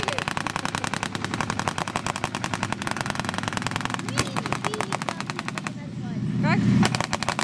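Rapid continuous bursts of machine-gun fire at a military museum, loud and close with a dense rhythmic rattle, pausing briefly before a final burst, with a voice briefly heard behind the gunfire.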